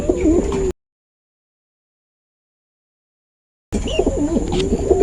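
Racing pigeons arrive at a home loft during a Cavite–Laguna club training race, with soft repeated cooing and fluttering close by, broken by a long silent gap mid-clip; no one speaks.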